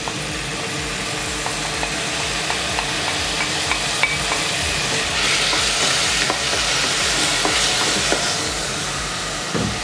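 Onions and garlic frying steadily in oil as tomatoes go in, a loud continuous sizzle with scattered stirring clinks and scrapes, no talking.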